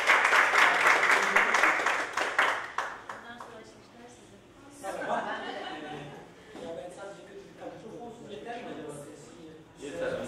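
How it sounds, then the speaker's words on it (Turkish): An audience at an event at Avrasya Hospital claps loudly to welcome a doctor onto the stage. The applause fades after a few seconds, and then people talk. "Alkışlarımızla Doktor Mehmet Koç"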